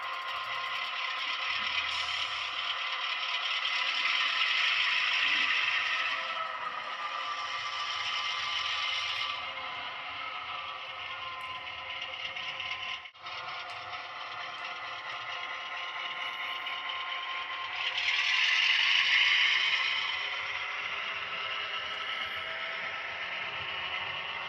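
A model train runs along a layout with a steady mechanical hum and light rattling clatter, swelling and easing as it passes, moderately close and uninterrupted by talk.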